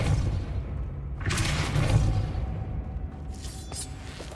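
Spell impacts in the Hogwarts Legacy video game, Confringo and Depulso, heard as a rumbling low boom under a steady background hum with a whooshing burst and a later crackling hit, no voices.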